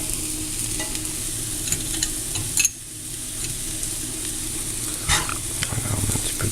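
Butter sizzling and spitting in a hot frying pan on the stove while a buckwheat galette is being prepared, a steady close crackle with occasional louder pops and a brief dip partway through.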